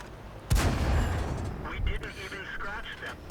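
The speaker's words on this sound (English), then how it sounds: "Gets a shot into the Valentine, shoots him again, picks up the kill." Tank cannon fire in the World of Tanks video game: one loud, close booming shot with a long rumbling decay, followed by softer battle noise and a second blast starting at the end, with a voice talking over it.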